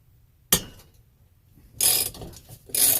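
A ratchet with a 9/16 socket turns a bung out of the fuel fount of an early-1930s Coleman 228B lantern, producing a sharp click, then two short bursts of quick ratcheting separated by quiet.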